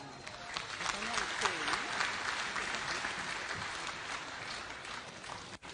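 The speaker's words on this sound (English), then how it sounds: "One more round of applause for her" Mourners applaud at a memorial service for General Francis Ogolla, a sustained broad clapping wash with some crowd noise, steady and moderately distant, with a voice faintly heard beneath.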